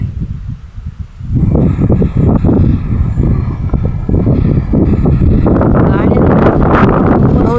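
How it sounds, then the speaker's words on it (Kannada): Strong monsoon wind roars steadily into the microphone as plants sway, a loud continuous buffeting rush that swells stronger toward the end. "ತುಂಬ ಗಾಳಿ ಬರ್ತಾ ಇದೆ"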